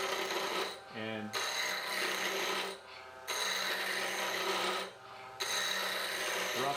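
A lathe tool roughs a thin wood spindle to round, making a steady, loud scraping hiss of cutting. It breaks off in three short pauses as the tool lifts away.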